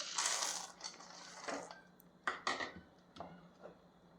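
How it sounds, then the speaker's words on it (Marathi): Roasted peanuts tumble into a sticky jaggery and sesame ladoo mixture: a quiet scatter of clattering, crunchy knocks against the pan, with a few sharper hits near the middle and softer rustling between them. "यामध्ये आता आपल्याला हे शेंगदाणे टाकायचे आहेत"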